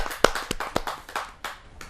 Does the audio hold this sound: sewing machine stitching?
no